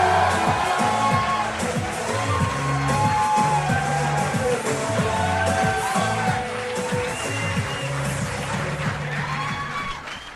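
A studio audience cheers, whoops and applauds as comedian Tom Segura walks out on the Kill Tony stage, with a band playing underneath; the sustained, loud crowd noise runs without a break the whole way through.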